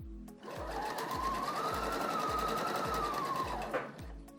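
Sewing machine stitching fabric piping onto a baby bib, a steady close whirring run of needle strokes lasting about three seconds before stopping.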